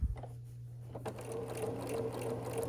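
A sewing machine straight-stitching fabric for a scrappy quilt sampler block runs in a steady, close mechanical whir after a brief pause and a start-up click, with no talking.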